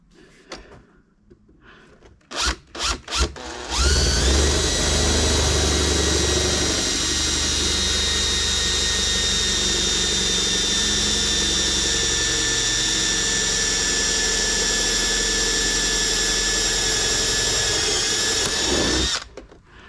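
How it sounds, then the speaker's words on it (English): A power drill bores through the hull of a Proboat Sonicwake V2 RC boat, whining loudly and steadily for about fifteen seconds after a few clicks and knocks, alone without speech. "Reason that's so hard to drill through, or so taking so long, is because it's not just a hole there"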